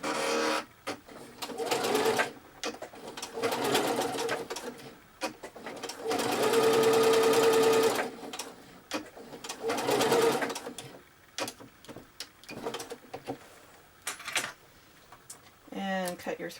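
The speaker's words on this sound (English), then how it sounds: "take the two sides that you pin together and sew them together" Sewing machine stitching the two pinned fabric sides of a paw-shaped pillow together, running in several close, steady whirring bursts of varying length with short stops between them; no one talks.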